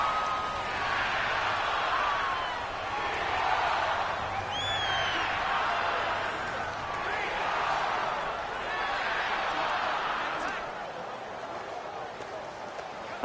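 A stadium crowd roars in Madden NFL 19 during a Panthers versus Jaguars football game, a dense, constant wall of cheering and whooping that swells and dips in waves while piercing whistles cut through.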